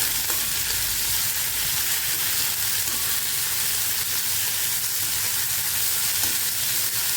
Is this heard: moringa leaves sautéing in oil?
yes